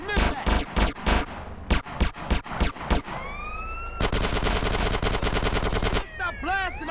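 Gunfire in GTA San Andreas: loud rapid bursts of shots, then a sustained stretch of automatic fire, mixed with shouted game voices and whistling tones.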